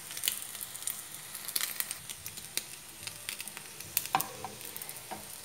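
A chicken burger patty sizzles and crackles in a hot pan after being flipped, a steady close frying hiss dotted with sharp popping spatters.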